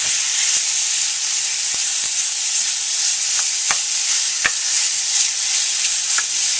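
Thin strips of beef for stroganoff frying in a pan until browned, giving a steady close sizzle with a few sharp pops and crackles and no talking.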